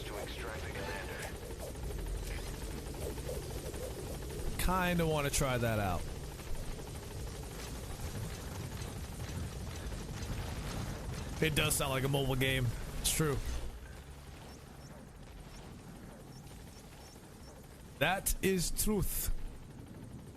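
Support helicopter in Metal Gear Solid V: The Phantom Pain, a steady rotor drone running throughout the scene beneath intermittent player commentary.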